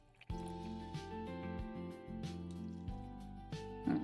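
Water poured into a paint mixture on a scale for marbling, a soft liquid fill with small drips and squishy trickles running steadily at close range, with no talking.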